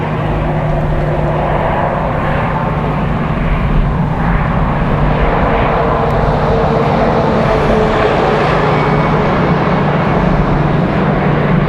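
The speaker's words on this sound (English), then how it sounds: "A319 taxiing in a little bit of a hurry." An Airbus A319 airliner taxiing at Raleigh-Durham airport gives a loud, steady jet engine roar with a constant low hum, sustained throughout without voices.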